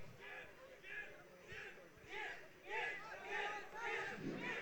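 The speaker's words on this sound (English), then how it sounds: "চিল্লাচ্ছে সবাই।" A crowd at a middleweight fight event shouts and cheers in repeated rising surges, voices swelling and falling in waves of chanting encouragement at moderate distance.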